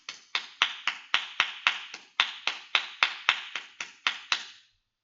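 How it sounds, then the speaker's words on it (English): A small class claps in unison for one more participant during a Krav Maga session, about fifteen sharp, evenly spaced claps over five seconds, close and clear with no talking. "We have one more person. Let's cheer him on."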